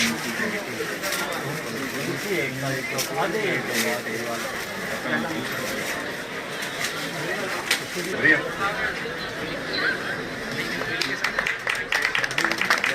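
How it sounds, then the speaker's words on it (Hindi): An audience at an Indian community gathering claps loudly, with a sustained burst of applause that runs the whole way through and grows rougher toward the end, heard under a speaker's voice. "जोरदार तालियां बजाते हुए।"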